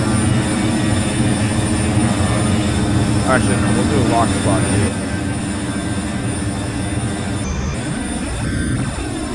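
A simulated Airbus A319-114 airliner in the FSX flight simulator gives a loud, steady jet engine roar with a constant hum and whine throughout, while someone talks briefly over it.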